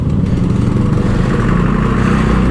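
Loud, close Kawasaki Ninja RR 150 two-stroke motorcycle engine running steadily, with a continuous buzzy, rattling drone throughout.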